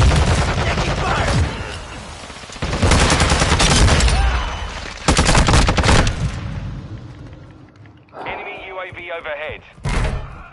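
Heavy bursts of video game gunfire in loud, dense volleys, broken by short gaps with thuds and a trailing whine near the end, under shouted radio-style voices.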